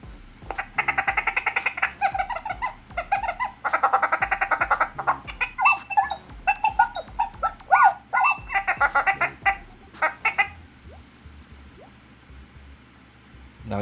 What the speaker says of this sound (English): I just searched for Pit Droid sounds, and I just downloaded them and put them in here.